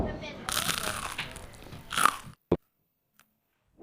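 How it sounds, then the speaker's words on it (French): Crispy fish and chips at a London spot are bitten and chewed close up, giving a few seconds of crunching followed by one sharp crisp bite, then near silence. "C'est un bon endroit pour manger un fish and chips, Michel?"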